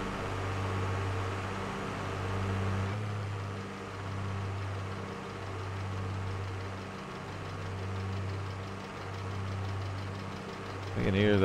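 John Deere tractor engine from Farming Simulator 22 running steadily at a low, pulsing idle-like drone, fairly close and continuous, with a brief sharper noise at the end.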